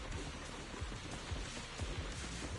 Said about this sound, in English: The wind and rain are picking up.